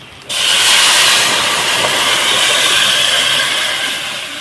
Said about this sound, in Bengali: মাছের জন্য কষানো হয়ে গেছে আমি এখন জল দিয়ে দেবো